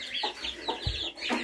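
Chickens and roosters cluck in short bursts, close and fairly loud, in a village farmyard during a thunderstorm with rain.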